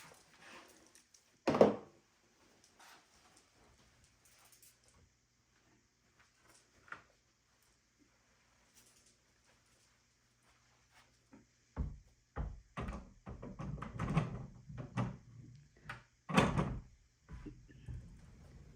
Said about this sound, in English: All right, let's hang the door.